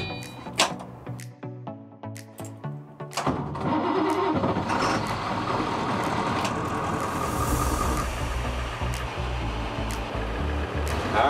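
A converted school bus, a skoolie, fires up with a whirring crank after a few clicks and knocks, then settles into a loud, steady diesel rumble as it starts to drive.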